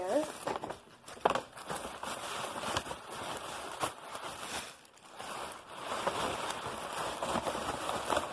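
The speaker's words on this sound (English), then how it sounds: "Let me stick the tissue paper back in there." Tissue paper is crumpled and stuffed into a baby shower prize gift, with a steady, close crackling and rustling that rises and dips for about eight seconds.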